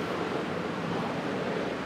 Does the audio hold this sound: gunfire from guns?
no